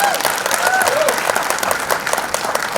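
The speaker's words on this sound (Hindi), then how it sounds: "सबसे जोरदार तालियां।" An audience at Kailash Kher's grand birthday celebration breaks into loud, dense applause with crowd noise, steady and close throughout, while a voice briefly speaks over it.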